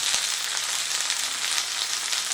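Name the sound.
okra frying lightly in oil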